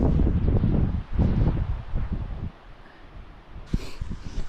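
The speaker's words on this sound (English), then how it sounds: "When I said the wind's whipping, I really meant it." Strong wind gusting across a Colorado hillside during an elk hunt, loud buffeting roar against the microphone that surges, eases, then swells again in gusts.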